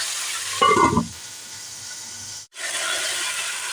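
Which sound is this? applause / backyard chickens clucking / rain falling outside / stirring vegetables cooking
stirring vegetables cooking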